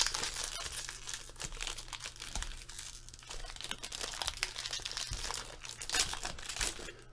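Upper Deck Marvel Gems trading card packs being opened, with close crinkling and tearing of foil wrappers in bursts of rustling that continue throughout, no talking.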